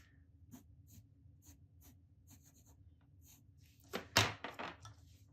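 Fountain pen scratching out italic calligraphy strokes on paper: quiet, close, repeated short scrapes, with a louder cluster of quick strokes near the end.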